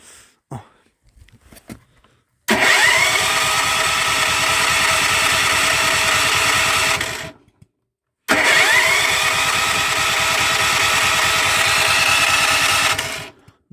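A small petrol generator cranked twice in winter frost, long mechanical bursts of about five seconds each, whirring and chugging steadily with a pause between attempts, never catching.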